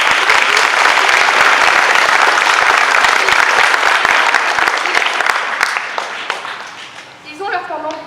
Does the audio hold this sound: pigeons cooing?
no